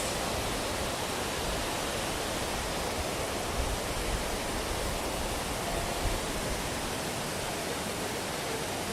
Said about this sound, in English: you can see that there's a lot of waterfalls around here